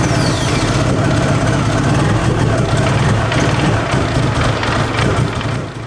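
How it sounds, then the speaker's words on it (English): A cheap BMW car with a faulty engine runs roughly after starting, a loud, close, continuous engine drone with uneven low rumbling and no clear pauses. "Now let's start the car up and see if it's running any better."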